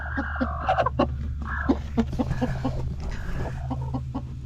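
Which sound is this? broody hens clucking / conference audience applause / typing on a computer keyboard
broody hens clucking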